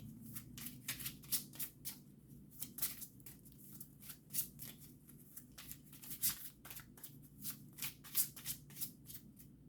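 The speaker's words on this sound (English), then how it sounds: "Let's get a couple of Kipper cards here." Kipper cards shuffled by hand in a steady run of crisp, riffling flicks that repeat at close range, with no voices heard.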